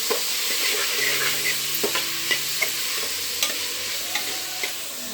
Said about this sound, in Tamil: வெங்காயம் தக்காளி கருவேப்பிலெல்லாம் சேர்த்தாச்சு நல்லா வதங்கட்டுது